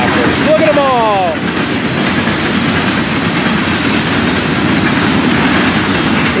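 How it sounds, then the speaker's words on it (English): A heavy Florida East Coast freight train of loaded rock hopper cars holds on a siding, with a loud continuous rail rumble, a brief squealing wheel tone near the start and rhythmic clickety-clack throughout, close by. "This train holding on the siding for FEC's 101 just moments ago."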